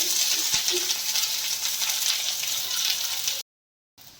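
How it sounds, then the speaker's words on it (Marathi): Onion fries in a little oil, giving a steady hiss of close sizzling with one small knock near the start, before cutting to brief silence and then resuming. "कांदा पण आपल्याला छान असं ब्राऊन भाजून घ्यायचंय. थोडंसं तेल टाकून आपण भाजून घेऊया"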